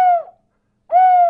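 A person imitates a loon's call as a mock love call, giving two sustained, tonal hooting wails separated by a brief pause, close and fairly loud with no other sound.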